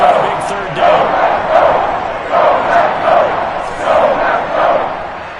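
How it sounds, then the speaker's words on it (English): Stadium crowd in a football video game roaring in swelling waves during a big third down, loud and continuous, with rhythmic chant-like surges. "the crowd getting into it as we come up with a big third down"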